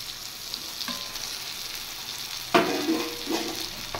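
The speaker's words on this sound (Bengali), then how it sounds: "এবার আমি দিয়ে দেবো ভেজে রাখা বেগুন।" Fried eggplant pieces drop into a sizzling tangra fish curry with onion paste and melted tomatoes, giving a steady frying hiss with a sharp burst of crackle midway and a few stirring scrapes after.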